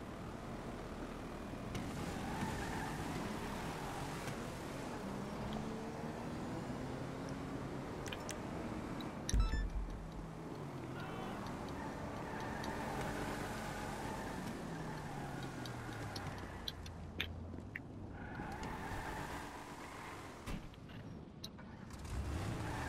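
A car driving up in the Grand Theft Auto V video game, its engine droning and shifting pitch as it approaches, with a sharp thump partway through and a quieter, steady hum after.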